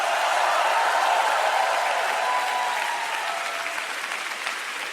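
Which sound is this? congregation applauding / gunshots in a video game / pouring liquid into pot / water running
congregation applauding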